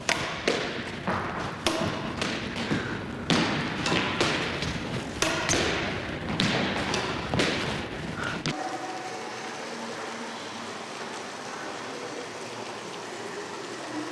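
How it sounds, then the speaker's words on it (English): A squash ball thumping around squash courts at a leisure centre, with rapid, irregular, echoing thuds and slaps for several seconds before the hits stop and only a steady hall ambience remains. "and this is just one of them, squash courts."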